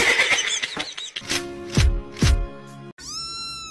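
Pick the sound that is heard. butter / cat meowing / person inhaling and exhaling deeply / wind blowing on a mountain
cat meowing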